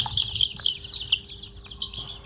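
A crowd of young Thai native chicks gives a steady, overlapping high-pitched peeping, close and moderately loud, with no voices.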